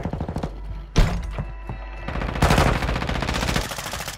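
Gunfire in Call of Duty Warzone 2 on the Vondel map: rapid automatic bursts and sharp single shots, close and loud, with impact thuds between them. No one speaks.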